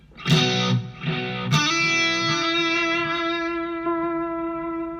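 Two plucked electric guitar chords ring out through a long echo effect set around 750 milliseconds, each trailing into long, repeating echoes that sustain and slowly fade.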